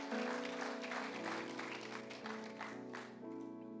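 During a Sunday service in a Manado church, the congregation applauds in a dense, sustained wash of clapping, heard from within the hall with a musical backing underneath.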